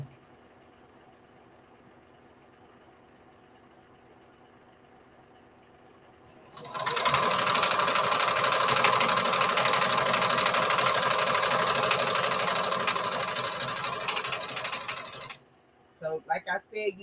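After a quiet start, a sewing machine stitches fabric in one loud, continuous whirring run of about nine seconds, then stops abruptly, followed by a few soft handling clicks.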